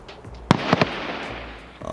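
Gunfire in a video game with a Mosin rifle: two or three sharp, loud shots in quick succession over a faint voice in the background.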